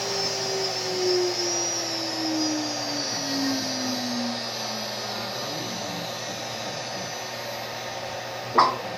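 An MPCNC machine motor runs warm with a steady, close whine that slowly falls in pitch, then ends in a single sharp click.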